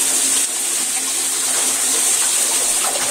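Continuous rushing, gushing water fills the whole stretch, loud and close with no pause.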